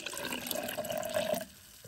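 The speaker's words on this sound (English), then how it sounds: "I'm gonna pour it in the cup and maybe it'll still have some fizz." Flat, 24-year-old Coke poured from a bottle into a cup, a close, steady liquid stream with a rising pitch that stops abruptly after about a second and a half.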